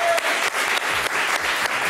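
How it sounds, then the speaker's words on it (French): Studio audience on a French talent show applauding for Henri, a loud, close, continuous wash of clapping with a few brief dips. "Allez, on applaudit pour ça."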